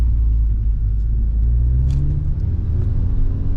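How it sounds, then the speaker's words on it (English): A manual-transmission car engine revs during downshifts, a loud, close rumbling drone that swells briefly then settles, with no voices. "you got to downshift, clutch in, flip the throttle, rev match it"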